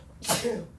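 A single short sneeze, a quick breathy burst lasting under a second, fairly faint against quiet room background.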